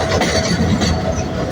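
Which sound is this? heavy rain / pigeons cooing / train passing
train passing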